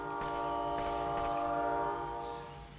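A train rolls past with a sustained, droning horn blast in Call of Duty: Warzone, loud and continuous for a couple of seconds before fading slightly, with no speech over it.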